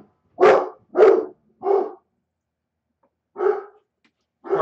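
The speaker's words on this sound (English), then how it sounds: "My dog barking." A pet dog barks indoors in a run of five loud, close barks, three quick ones, a pause, then two more spaced out.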